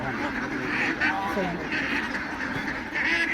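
Ducks on a duck farm in Punjab, Pakistan, quacking repeatedly in short nasal bursts, fairly close, mixed with someone speaking over them.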